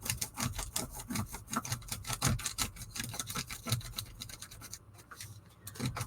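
A crayon rubs back and forth over a textured craft plate in fast, continuous scratchy strokes, close and fairly quiet, with no speech.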